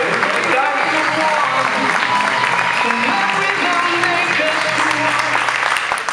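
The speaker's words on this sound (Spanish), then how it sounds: "quiero que recibamos con un fuertísimo aplauso" A large audience applauds loudly to welcome a speaker on stage at an event in El Salvador, steady dense clapping filling the room throughout with some crowd voices mixed in.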